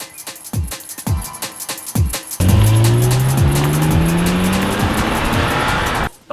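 A 1990 Honda NSX sports car with a V6 VTEC engine makes a run of sharp, pulsing bursts. These give way to a loud, sustained engine howl that rises in pitch until it cuts off abruptly.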